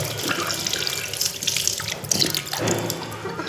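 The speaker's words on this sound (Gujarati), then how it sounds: "હાથ નીચે રાખો ને પાણી આવી જાય" Water gushes steadily from a sensor-activated tap as hands are held beneath it, a close, continuous splashing rush into a basin with shifting spatter as the hands move, no voices.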